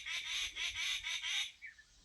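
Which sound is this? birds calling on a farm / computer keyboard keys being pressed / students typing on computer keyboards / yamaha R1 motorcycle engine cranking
birds calling on a farm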